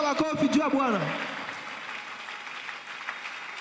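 A church congregation cheering and clapping in acclamation, with a loud voice calling out over them at the start and then a sustained wash of crowd noise and applause.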